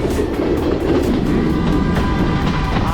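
A passenger train in Sri Lanka rolls along the line toward Galboda Ella, its wheels beating a loud, close, rhythmic clickety-clack over the rail joints under a steady rumble.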